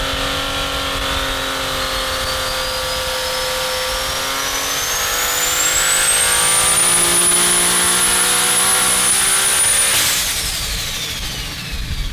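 Ford Barra turbo six-cylinder engine on a high-boost dyno pull, revving steadily upward in a loud, rising roar with a climbing turbo whine, peaking then dropping off sharply as the throttle closes near the end.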